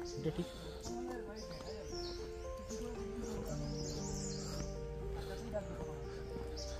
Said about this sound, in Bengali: পাখির আওয়াজগুলো কিন্তু দারুণ লাগছে।